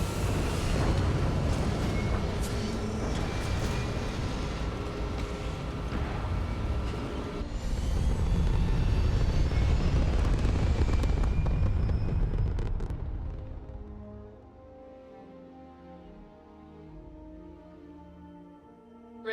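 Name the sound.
spaceship liftoff engine roar, Starfield video game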